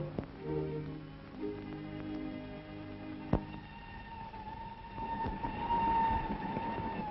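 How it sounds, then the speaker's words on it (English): A train crosses a railway viaduct in 1940s London, rumbling along with sustained whistle-like tones, a single sharp clank midway, then a rising wash of rolling noise toward the end. "all those homes in the shadow of railway viaducts, where the people can't rest or sleep for the smoke and the din"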